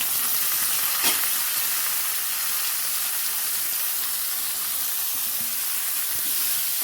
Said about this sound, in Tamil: நல்லா வதக்கிடுங்க கொஞ்சம் வதங்கட்டும்